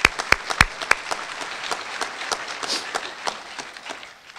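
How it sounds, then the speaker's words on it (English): Applause at a school district awards ceremony, with a few sharp close claps at the start, then a crowd's clapping thinning and fading over about four seconds. "Let's give them one more round of applause."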